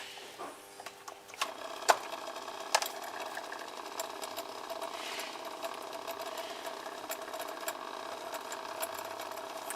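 A 35-watt submersible water pump runs with a steady, fairly quiet mechanical hum and faint clicks, continuous and moderately close.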